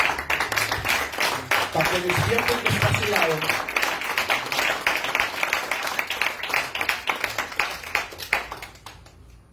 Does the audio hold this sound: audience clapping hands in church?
yes